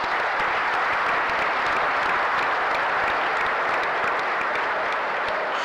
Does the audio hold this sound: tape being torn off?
no